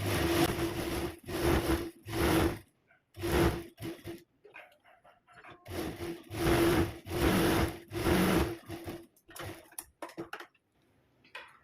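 A sewing machine stitches along the edge of kurti fabric in several loud bursts of rapid mechanical whirring, separated by short pauses and small clicks.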